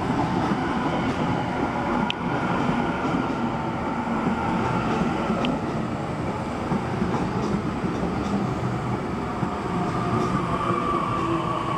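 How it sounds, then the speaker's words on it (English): A Waratah electric passenger train arrives at a suburban platform, a steady rolling rumble with faint clicks of the wheels over the track, continuous and fairly close throughout. "Now Waratah arriving in platform number 2, A13 is the set, Hornsby via Gordon service."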